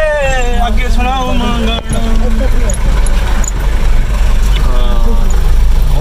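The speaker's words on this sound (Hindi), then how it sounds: "जीप के मजे लेते हुए हम जा रहे हैं" A jeep rolls along a road with a loud, steady low engine drone, while people talk and laugh inside the vehicle over the running motor.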